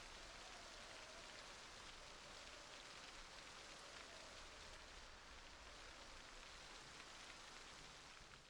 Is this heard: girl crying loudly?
no